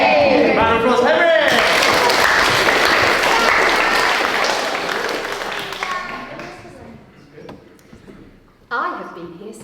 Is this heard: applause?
yes